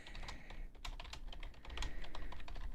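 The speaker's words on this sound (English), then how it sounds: "That's me typing." Rapid typing on a computer keyboard, a continuous patter of close, crisp key clicks with uneven rhythm and occasional heavier strokes, heard alone.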